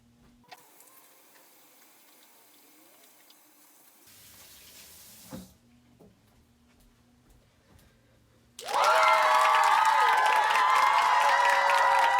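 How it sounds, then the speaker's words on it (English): Hands are washed under a running tap: after quiet room noise and a brief knock, the faucet turns on and water gushes loudly and steadily into the sink until the end. "I'm going to go wash my hands again"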